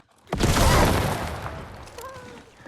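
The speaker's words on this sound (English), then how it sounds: "I also kill an enemy with a signal flare explosion for another one." A signal flare detonates in the Alan Wake video game, a sharp loud burst at once spreading into a broad crackling roar that slowly fades, with faint tonal game effects near the end and no talk.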